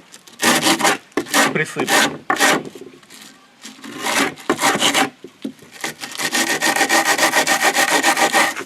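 An old hand rasp scrapes across the backing of cheap sandpaper belt stock in bursts of rough wooden rasping strokes, loud and close, with pauses between groups and a quick spoken word near the start.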